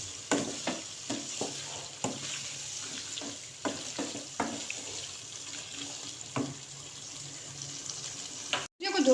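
Vegetables for a veg korma sizzle steadily in a pan while a utensil stirs and scrapes in repeated bursts; a brief clatter comes near the end.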